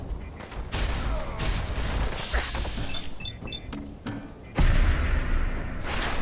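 Rapid gunfire from a legendary weapon in a video game, a string of sharp, punchy bursts with thudding impacts and brief pauses, ending in one heavier blast.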